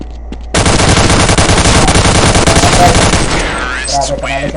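Loud, dense bursts of automatic gunfire from a Counter-Strike match, a rapid continuous rattle that starts abruptly and runs for several seconds before tailing off into quieter game sounds.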